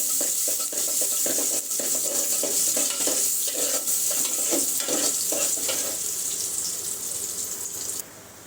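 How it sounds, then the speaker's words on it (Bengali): Chopped garlic and a little onion frying in oil for a dal tempering, a loud steady sizzle with repeated stirring scrapes throughout, dropping suddenly quieter near the end. "দিয়ে দিচ্ছি রসুন কুচানি বাগার দেওয়ার জন্য। আর অল্প করে দিচ্ছি পেঁয়াজ।"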